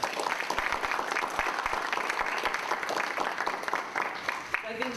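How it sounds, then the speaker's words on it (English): Applause from a panel audience for a guest, steady dense clapping throughout, with voices mixed in underneath. "Let's give him a round of applause."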